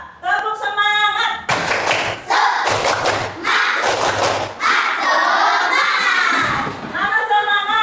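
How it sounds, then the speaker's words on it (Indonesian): A school class performs the rhythmic 'tepuk semangat' clapping chant, with loud bursts of patterned claps and thumps alternating with children's shouted chanting, close and energetic. "Sebelumnya coba tepuk semangat."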